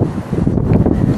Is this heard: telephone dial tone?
no